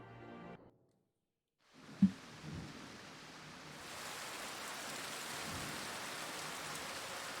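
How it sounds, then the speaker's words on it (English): Steady rain in the video game Final Fantasy XIV rises after a brief quiet gap, growing into a dense, continuous hiss with a single sharp knock early on; no talking. "Oh, it's raining."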